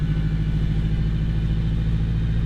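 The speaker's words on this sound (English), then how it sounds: "the straight cut gears in this car sounds so like relaxing" Acura RSX Type-S with a turbocharged engine and straight-cut gears, cruising with a steady close engine drone and a continuous mechanical hum, no voices present.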